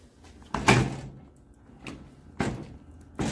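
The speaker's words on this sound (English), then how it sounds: "I can never open this door" A stiff door in a machine shop is tugged at repeatedly, giving several sharp thumps and rattles at uneven intervals, with quieter shuffling between them.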